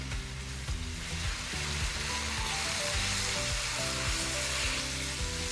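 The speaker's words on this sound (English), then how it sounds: "And we're gonna stir this up." Seasoned ground beef with smash burger seasoning and paprika sizzles steadily in a skillet as it is stirred for a cheeseburger dish, a constant bright hiss running throughout under a backing of music.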